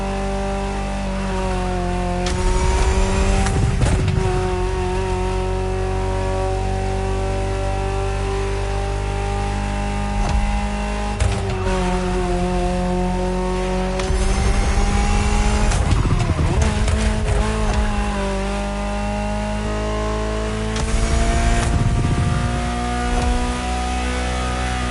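A high-revving Ferrari supercar engine in a video game roars continuously with gear shifts and surges, occasional tire squeals breaking through, loud and close throughout.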